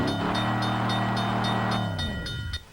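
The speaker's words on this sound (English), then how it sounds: "is this train ever gonna come?" Train in the racing video game Ford Racing, a steady loud rumble with a sustained horn-like tone that fades out near the end.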